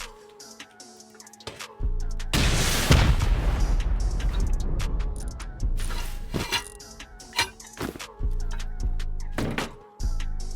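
Rocket explosions from a base raid in a video game: a sharp crack, then a long, heavy rumbling blast, with several more booming impacts and thuds spread over the following seconds, loud and close.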